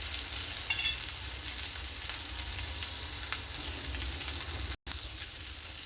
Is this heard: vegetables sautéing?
yes